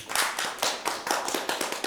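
Audience applause at a Ukrainian stand-up comedy show, a thin, scattered round of clapping from a small part of the crowd with irregular claps throughout, moderately loud and close, no voices.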